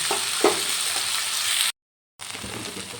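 Chopped mango pieces sizzle steadily in a hot pan for a fruit chutney, with a soft stirring scrape near the start and a short break to silence partway through, no voices.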